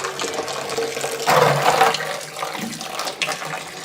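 Fuel leaks out of the tank of a badly rusted car in a continuous watery splashing and trickling that swells briefly in the middle.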